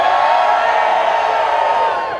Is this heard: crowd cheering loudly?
yes